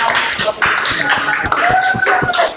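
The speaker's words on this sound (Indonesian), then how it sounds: "Berikan aplaus dulu" Audience applause after a group presentation in a classroom training session, a steady dense patter of clapping hands sustained throughout, with voices murmuring underneath.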